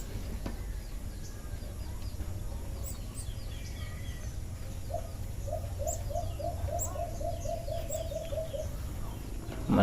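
A chick of a native jungle fowl chirps in a quick, steady run of repeated short notes against quiet outdoor background noise, with a couple of higher peeps mixed in.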